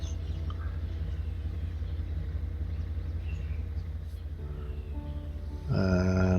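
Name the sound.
train moving onto turntable, from a video game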